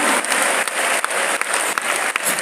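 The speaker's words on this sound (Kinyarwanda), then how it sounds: "Imana iri kumwe nawe, tuyikomere amashyi menshi" Loud, continuous applause from a church congregation during a sermon, steady clapping throughout with no voices over it.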